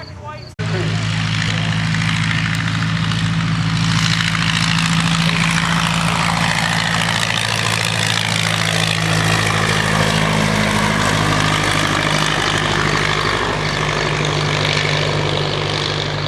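A vintage propeller mail plane runs its engine at an air show, a loud, steady drone with a strong low hum that holds for the whole stretch after starting abruptly, while someone talks over it.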